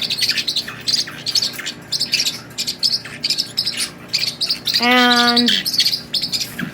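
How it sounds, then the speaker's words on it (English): Several parrotlets in a large cage chitter and squabble over a branch, a busy stream of rapid high chirps and tweets close by, with one louder harsh call near the end. "these guys are just kind of chittering"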